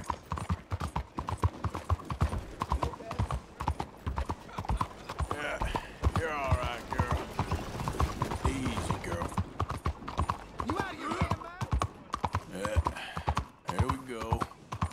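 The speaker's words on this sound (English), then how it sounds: "That's a really pretty horse." Hooves clip-clop in a dense, continuous rhythm on a horse in Red Dead Redemption 2, with tack jingling and game voices talking over the riding.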